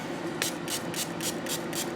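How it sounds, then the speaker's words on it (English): Rapid pumped sprays of acrylic Resolene finish onto the back side of leather hiss out in a regular rhythm, about six close bursts within two seconds. "Backside, I just give a spray"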